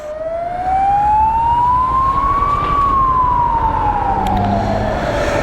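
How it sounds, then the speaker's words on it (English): A loud emergency siren wails, its pitch sweeping up and then sliding back down, over a steady rumble of traffic. "Let the ambulance through."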